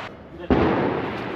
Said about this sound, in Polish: Pewnie słyszycie te fajerwerki